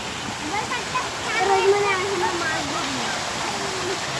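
Continuous rushing splash of a water park fountain at night, fairly close and steady, with a voice talking underneath.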